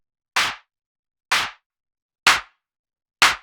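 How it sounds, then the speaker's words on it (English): Four evenly spaced, punchy clap hits, each a sharp layered snap with a short tail, sound alone with silence between them, making up the clap layer of a tech house track. "So I'm layering together these two claps."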